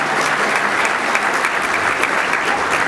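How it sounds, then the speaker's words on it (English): Steady, dense applause from a large crowd at an economic forecast event, sustained clapping at an even level throughout with no pauses. "a generous, long round of applause for these great sponsors"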